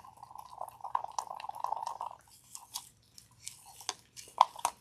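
Stirring mica powder into epoxy in a cup, a soft scraping rattle of the stick for a couple of seconds followed by scattered faint taps and clicks, close and quiet.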